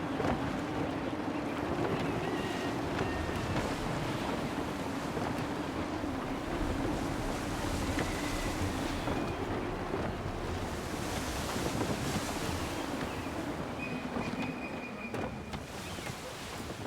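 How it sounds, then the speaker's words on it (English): Gusty wind and rolling ocean waves surround a sailing ship at sea in Assassin's Creed III, a dense continuous roar with creaking tones throughout and no talk. "Wind looks to be shifting. Stay alert, Connor. Gusty winds can be difficult to manage."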